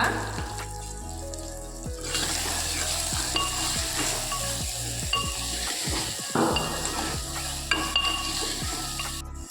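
Chopped tomatoes with salt sautéing in a pan for rasam, giving a steady close sizzle with a rhythmic series of spoon scrapes and knocks against the pan, alone without voices.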